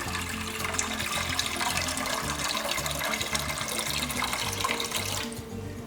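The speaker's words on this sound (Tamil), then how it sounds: "நல்ல ஒரு லிட்டர் அளவுக்கு தண்ணி ஊற்றிக்கலாம்" About a litre of water poured into a pot for tomato rasam: a steady, close splashing stream runs for roughly five seconds, then stops abruptly.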